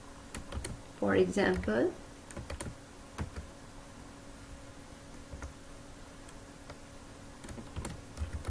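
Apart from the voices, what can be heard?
typing on a computer keyboard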